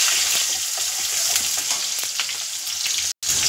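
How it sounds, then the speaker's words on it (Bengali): Green chillies and tomato fry together in a pan with a dense, close hiss, with occasional spatula taps against the metal and one brief dropout near the end. "লঙ্কাটা একটু ভাজবো এর সাথে, টমেটোর সাথে।"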